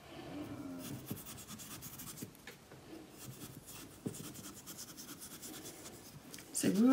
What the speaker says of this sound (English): I'm just going to cut a little bit of the oasis out.